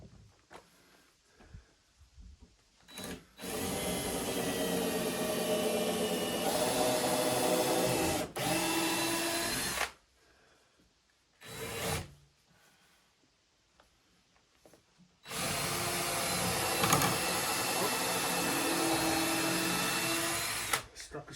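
A power drill drives long screws into a stud while building a sunroom, with two sustained whirring runs several seconds long separated by short bursts and quieter gaps, close and loud, with someone talking in between.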